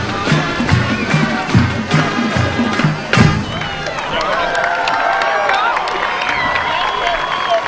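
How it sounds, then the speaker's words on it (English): Crowd at a night high school football game between Placer Hillmen and Lincoln Fighting Zebras, a steady roar of cheering and clapping with thumps and shouts, loud and continuous across the stands. "Big hand from the crowd."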